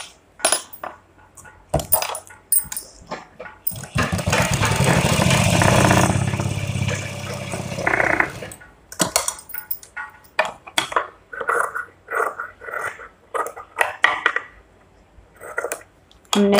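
A sewing machine runs a straight seam across the pocket of palazzo pants in one continuous whirring burst of about four seconds. Scattered clicks and fabric handling come before and after.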